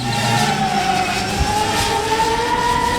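A Wing delivery drone flies overhead, giving a steady, loud mechanical whine and buzzing drone with a sustained pitch that slowly shifts, constant throughout with no speech.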